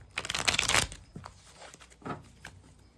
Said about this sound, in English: So I'm just gonna shuffle 3 more times.